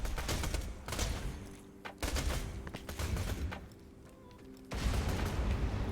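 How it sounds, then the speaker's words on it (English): Grenade blasts and bursts of gunfire from the video game Borderlands 2, loud booming thumps and rapid shots in several heavy waves with brief lulls between them. "I do have nades, don't I?"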